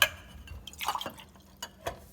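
Water is poured into a small stainless steel briki for one serving of Turkish coffee, coming as a few short splashes and drips close by with quiet gaps between them and no voices.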